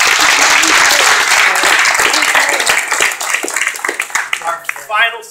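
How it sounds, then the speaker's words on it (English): Audience at an orchestra concert applauds the players in a loud, full round of clapping that gradually thins and tapers off, with a voice beginning to speak near the end. "Let's give them a round of applause"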